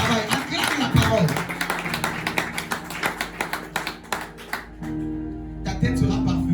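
A church congregation claps rhythmically together in a run of sharp, fast hand claps under a preacher's voice and crowd singing, and the clapping thins toward the end.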